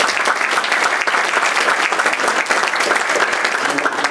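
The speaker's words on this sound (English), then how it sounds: "We give Don a round of applause." An audience at an evening community event gives a loud, sustained round of applause, dense clapping holding steady from start to finish with no talk over it.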